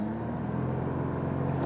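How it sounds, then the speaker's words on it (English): A manual BMW M140i launches hard from a brake boost on flat ground, its engine roaring loud and steady at high revs with the tyres spinning, heard close and continuously without any talking. "Let's brake boost it again."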